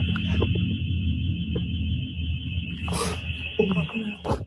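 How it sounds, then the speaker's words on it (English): A house alarm goes off inside a home where two sisters are hiding, a steady high electronic tone running throughout over muffled room noise and faint voices. "two sisters are alone at home, hiding inside a room when their house alarm starts to go off"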